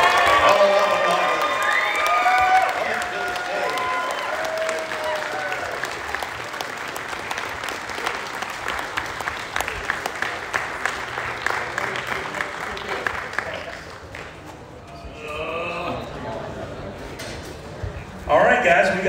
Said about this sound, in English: Come on, guys, let's keep those applause going.